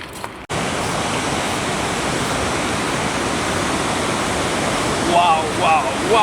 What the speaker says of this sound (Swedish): Vilket vattenfall! Ja, det är sicket dån.